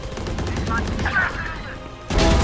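Gunfire in the tactical shooter Valorant: loud rapid shots clustered at close range, ending with a sharp burst, amid game effects.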